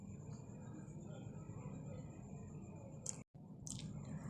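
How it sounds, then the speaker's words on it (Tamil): Flattened rice flakes being kneaded by hand with water, giving steady soft squishing and wet pressing sounds close up, with a brief silent break near the end. "தண்ணி சேர்த்து மறுபடியும் கொஞ்சம் பிசைஞ்சு விட்டுடலாம்."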